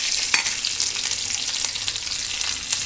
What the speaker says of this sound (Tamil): கொஞ்சம் கருவேப்பிலை, கடுகு நல்லா பொரிஞ்சிடும்